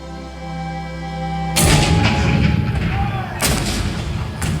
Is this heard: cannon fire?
yes